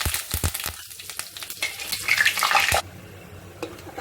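Curry leaves, mustard seeds and cumin hit hot oil with a sharp, crackling sizzle and scattered pops that build and then cut off abruptly near the end, followed by a quieter low hiss from the pan.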